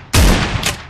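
A single loud, close shotgun blast in a video game with a heavy booming body, followed a split second later by a second shot layered on its decaying tail.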